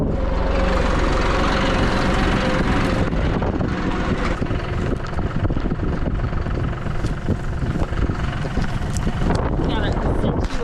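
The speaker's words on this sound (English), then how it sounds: "It's windy. Oh, so windy. Windy outside." Strong outdoor wind roars and buffets the microphone nonstop, a loud, dense rumble that masks most other sound, with a voice talking faintly under it.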